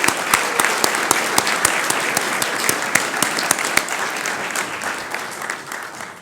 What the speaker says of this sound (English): A round of applause for our head table guests.